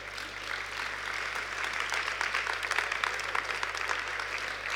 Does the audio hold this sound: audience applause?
yes